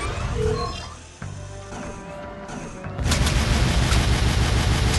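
Turret gunfire from the Jak 2 video game, dense booming bursts and crashing impacts that grow louder and more continuous toward the end, layered with game music and effects.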